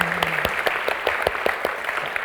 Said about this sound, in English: Let's give a round of applause again for our players in the field of love.